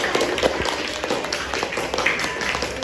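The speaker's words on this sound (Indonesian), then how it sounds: "Kasih tepuk tangan" Students in a junior high school English classroom applaud a classmate with a short burst of brisk, crowded clapping, moderately loud and close.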